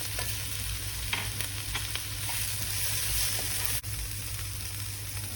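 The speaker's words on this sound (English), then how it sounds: "add the chicken. Fry for about 6 to 7 minutes" Chicken frying in a pan with black pepper, paprika, Arabian spices and coriander powder, a steady close sizzle with occasional stirring scrapes and clinks.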